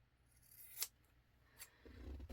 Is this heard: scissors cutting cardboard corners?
yes